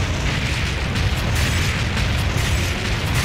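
Cannon bombardment explosions in the arcade pirate gun-shooting game Deadstorm Pirates on PS3: a dense, continuous barrage of loud rumbling booms, heavy and unbroken from start to finish.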